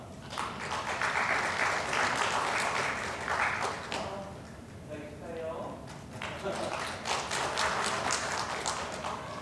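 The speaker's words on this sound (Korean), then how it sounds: "박수 주세요." Clapping from a congregation at a Korean Sunday worship service, dense at first, then briefly thinning as a voice speaks, then swelling again into steady applause.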